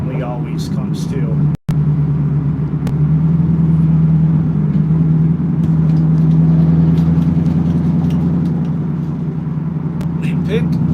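A modified car's engine with a hood scoop drones steadily and loudly while driving on the road, a constant low rumble with a brief dropout near the start.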